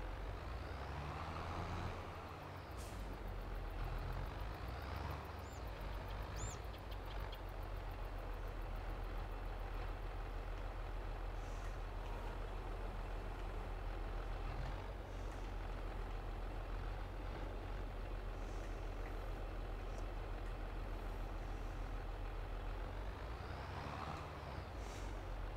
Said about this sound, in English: So harvesting the wheat.